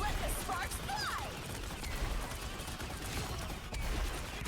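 Rapid-fire shots from Jubilee, a hero in the fast-paced shooter Marvel Rivals, crackle in a dense, continuous stream over busy game effects and background noise.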